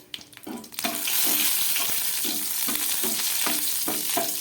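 Dried red chillies frying in hot mustard oil give a steady close sizzle with occasional sharp crackles and stirring scrapes, loud and continuous with no talk.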